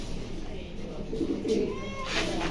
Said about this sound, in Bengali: আমি কবুতর জোড়াটা ধরে দেখাচ্ছি।